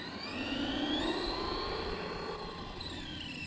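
A Traxxas Rustler 4x4 RC car with a BL2s brushless motor running at top speed, a whining high-pitched motor tone that sweeps past at moderate distance over a steady background rush, with no talk.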